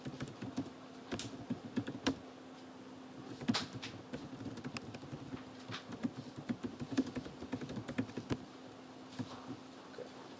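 Typing on a computer keyboard while writing Python test code: a steady run of close, light key clicks with irregular rhythm and small pauses, no talking.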